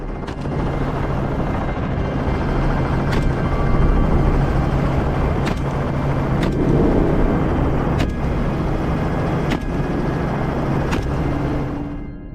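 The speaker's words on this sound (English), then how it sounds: "Helicopters equipped with high-powered rifles fly over fields, taking down hogs from over 200 yards away." A hunting helicopter carrying rifle-armed shooters flies over open fields in pursuit of wild hogs, its rotor and engine making a loud, steady, close drone that holds for the whole stretch with no voices.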